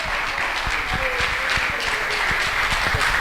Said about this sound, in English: another round of applause for Ted Lieu